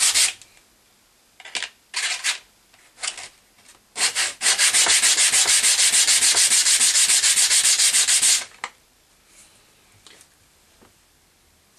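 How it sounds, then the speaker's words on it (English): Sandpaper rubbed over frames in a few separate short swipes, then one long continuous stretch of loud, close abrasive scraping, ending with a few more brief rubs and quiet gaps between. "So I'm just going to go through all 8 frames and give them a sanding."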